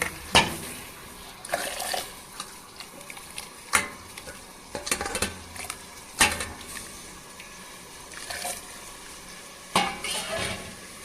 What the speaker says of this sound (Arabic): راح أحركه، بس أحرك التمن وأعوفه مكشوف، ما أغطي